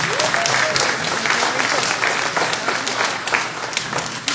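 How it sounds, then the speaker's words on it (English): Loud, sustained applause from a school assembly audience of students clapping together, a dense steady patter that lasts throughout without a break. "Give yourselves a round of applause."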